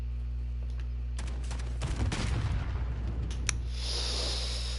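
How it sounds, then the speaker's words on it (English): An explosion in Call of Duty: Modern Warfare: a burst of crackling blasts and rumble lasting a couple of seconds, then a high ringing tail over a constant low game hum, no talking. "I just exploded."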